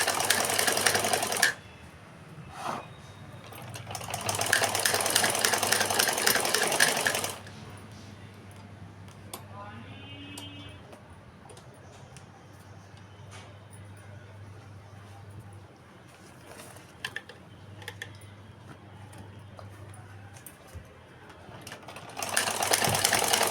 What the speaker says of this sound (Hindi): गाइस अभी मैं सिल रहे हैं